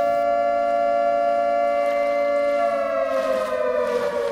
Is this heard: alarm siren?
yes